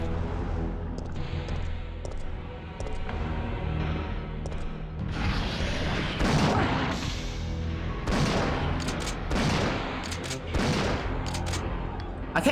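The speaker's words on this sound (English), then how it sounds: "Yeah, I'm just gonna equip the shotgun." Shotgun blasts ring out in the 1999 video game Resident Evil 3 Nemesis, several loud booming shots spread over a dense, noisy game soundtrack.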